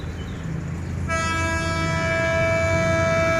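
A loud, sustained horn from Thai Hitachi locomotive 4501 on a rapid train blares steadily for several seconds, starting abruptly over low rumbling rail noise.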